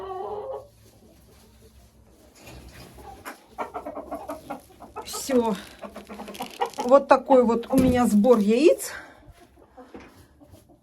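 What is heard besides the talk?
hens clucking in the coop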